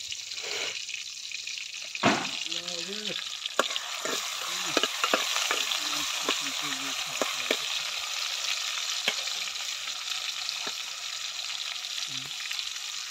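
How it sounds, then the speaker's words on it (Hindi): Tomatoes, garlic and cumin fry in a pan in a home kitchen, a steady close sizzle with occasional stirring scrapes and clinks, plus brief murmuring voices partway through. "टमाटर कड़ा रहे हैं लहसुन टमाटर फिर ये जीरा"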